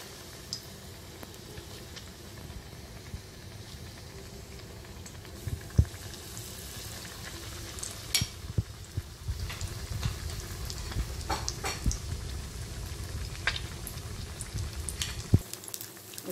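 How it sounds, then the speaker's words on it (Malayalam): Masala-dipped egg bondas frying in hot oil, giving a steady close sizzle with scattered pops and crackles that build slightly over time, with no talking. "എഗ്ഗും ഇതുപോലെ മസാലയിൽ ഡിപ്പ് ചെയ്ത് ഓയിലിലേക്ക് ചേർക്കുക."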